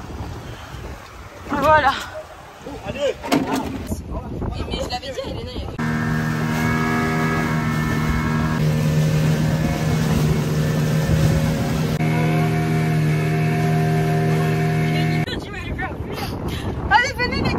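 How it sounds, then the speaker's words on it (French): An excursion motorboat off Zanzibar runs with a steady, droning engine hum for several seconds. Before and after it, people talk and wind buffets the microphone. "on monte dans le bateau"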